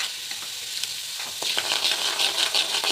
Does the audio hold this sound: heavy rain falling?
no